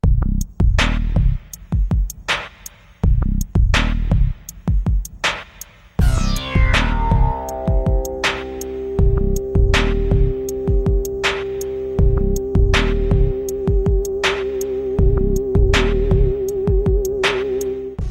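The opening of a song from the Command & Conquer: Red Alert game soundtrack plays, with punchy rhythmic electronic drum hits followed by a long sweeping tone and a sustained synth note over a steady beat.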